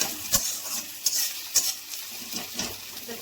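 Spices fry with onion, ginger, garlic, green chili and mushroom in a pan, a soft sizzle punctuated by a few distinct scrapes and clinks of a spatula stirring, fairly quiet overall.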